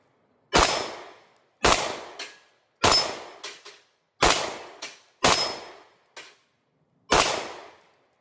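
Pistol fitted with a Cyelee CAT SRS6 Pro red dot sight, firing at bowling pins outdoors: six sharp, loud reports spaced about a second apart, several followed quickly by a fainter metallic clang of the hit pin.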